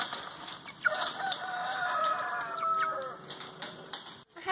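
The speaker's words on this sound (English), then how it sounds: "I have these roosters in this cage because I am taking them to 4-H." Meat-breed roosters in a cage crow repeatedly with rising drawn-out calls, mixed with scattered clucking and rustling, fairly close and continuous throughout.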